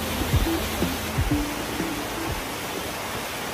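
Tohwangseong Falls, a tall three-tiered waterfall in Seoraksan's Oeseorak area, pours in a steady broadband roar of rushing water that stays even throughout, with a few faint low thumps underneath.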